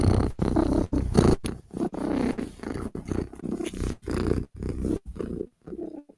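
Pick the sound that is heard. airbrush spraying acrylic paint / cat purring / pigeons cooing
cat purring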